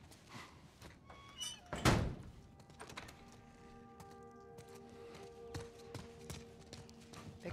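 A door thudding shut in The Last of Us Part 1 video game, one solid close slam near the start, then quiet footsteps and faint ambience with tonal background music.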